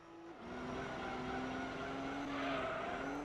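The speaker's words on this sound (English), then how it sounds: "I mean, he's drifting it." A race car drifts in the video game Gran Turismo 3, its tires squealing in a long, sustained whine over the drone of the engine. The squeal swells slightly toward the end, with no talking.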